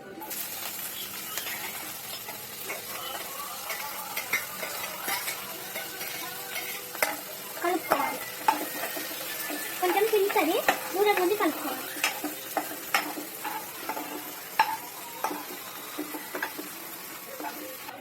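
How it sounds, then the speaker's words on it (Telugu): Cumin, mustard seeds and onions fry in hot oil in a pan with a continuous crackling sizzle, while scattered spoon clinks and scrapes come and go. "తర్వాత జీలకర్ర ఆవాలు వేసుకోవాలి తర్వాత అవి వేగాక ఆనియన్స్ వేసుకోవాలి"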